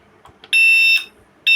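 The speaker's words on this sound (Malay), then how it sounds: "Bila double clip ni, maksud dia ni sekarang ni alarm tengah aktif" A Cobra 7925 car alarm sounds just after its wire is plugged in: two loud, piercing electronic beeps, one short chirp then a longer tone, followed by the start of another.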